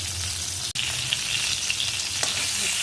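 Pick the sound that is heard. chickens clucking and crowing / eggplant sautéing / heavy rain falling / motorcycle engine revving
eggplant sautéing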